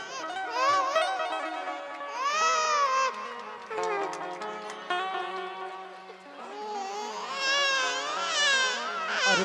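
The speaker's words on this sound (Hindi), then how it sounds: "देखो कान्हा की रोने की आवाज है, ये रोने की आवाज जिनके कानों में पहुंचे उनका उद्धार हो जाए।" An infant's cry, presented as the cry of baby Krishna during a devotional Shrimad Bhagavat Katha, rises and falls in long, wavering wails with brief pauses, loud and close.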